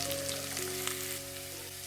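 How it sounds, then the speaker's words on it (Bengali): Onion, ginger and garlic fry in oil for a vegetable biryani, giving off a steady, even sizzle with a faint constant hum underneath. "পেঁয়াজ আদা রসুন ভাজা হয়ে গেছে"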